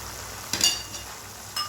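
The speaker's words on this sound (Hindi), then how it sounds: "तब तक आपने भूनते जाना है जब तक मसाला जो है वो ऑयल ना छोड़ दे" Spice masala fries in oil for lauki kofta, giving a steady close sizzle, with two brief scraping stirs of a spoon through the pan.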